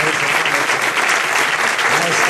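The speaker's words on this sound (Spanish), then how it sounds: "Un aplauso." An audience at a concert of folk music from western Asturias, held at the Museo Etnográfico de Castilla y León, breaks into dense, sustained applause, close and loud throughout.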